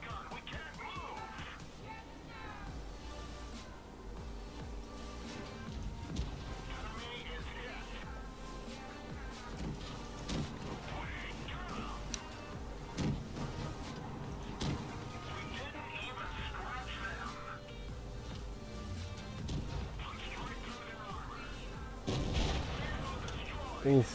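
A high-explosive shell hit in World of Tanks, heard as a heavy boom among ongoing artillery-like blasts and gunfire, with several sharp bursts spread through a loud, busy battle mix.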